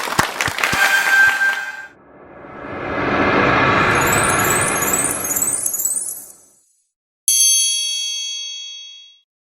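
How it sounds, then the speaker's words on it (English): A crowd claps steadily for a few seconds at a virtual corporate event, framed by bright chiming ding and clang effects before and after. "Can we all hear a big round of applause for Viraj and Shruti?"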